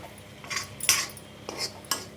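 Egg omelette flipped in a pan with a utensil: a few sharp metallic clinks and scrapes against the pan, close and fairly quiet, spaced irregularly.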